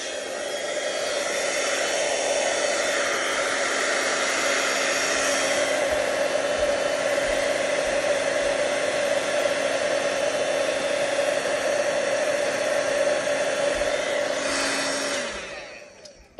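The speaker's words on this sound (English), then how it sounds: "you might want to turn it down for just a couple seconds while I heat emboss the strawberry." A handheld heat tool blows a loud, steady hot-air whoosh onto a stamped strawberry on a card as the embossing powder melts, running unbroken for about fifteen seconds before winding down at the end.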